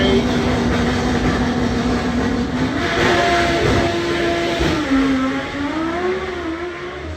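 A front-wheel-drive drag race car launches at Hal-Far Raceway in Malta, its engine note droning and climbing through the run from a distance amid crowd noise, while a commentator talks over it.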